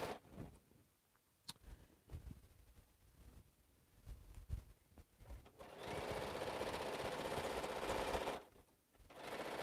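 A sewing machine stitches quilt rows in short intermittent bursts, then runs in one long steady whir of rapid needle strokes for several seconds before stopping, close and fairly quiet.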